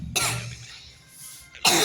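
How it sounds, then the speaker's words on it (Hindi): Two sharp, harsh coughs close by, one at the start and another at the end, separated by a brief quiet breath. "मुझे बहुत तेज खांसी आ रहा है"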